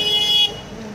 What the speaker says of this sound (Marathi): भयंकर गर्दी, ट्रॅफिक